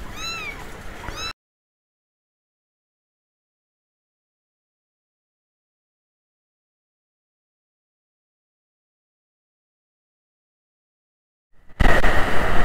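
A pet cat gives a short run of meows right at the start, then there is complete silence before a sudden loud burst of noise at the very end.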